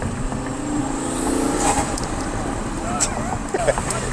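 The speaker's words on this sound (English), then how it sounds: "That turbo noise, huh? Yeah, it's smooth too." A Lamborghini's turbocharged engine drones steadily at part throttle during a rolling drive, rising and falling smoothly, with people talking over the engine noise.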